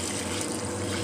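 Water runs steadily while little plants are watered, a continuous close hiss and splash with no breaks and no voices.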